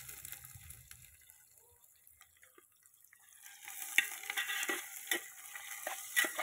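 Onion frying in hot oil with whole spices in a home kitchen: quiet at first, then a crackling, bubbling sizzle that grows louder and livelier over the last few seconds.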